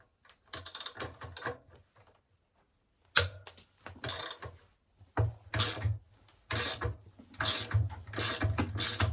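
Ratchet wrench loosening the tight ballast bolts on a Bosch WFP3300 washing machine: bursts of close, rapid mechanical clicking and ratcheting separated by brief silences, with no talk.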